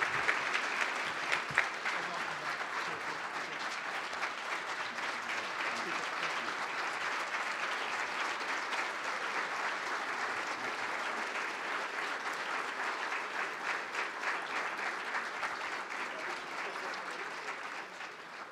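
Sustained audience applause at a hotel industry scholarship and awards luncheon following a keynote speech, steady and even clapping from a large crowd that continues for many seconds at moderate distance.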